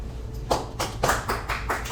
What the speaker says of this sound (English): One more round of applause, and for each and every cosplayer that we have.